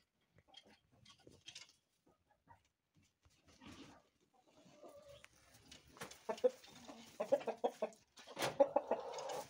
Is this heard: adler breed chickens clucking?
yes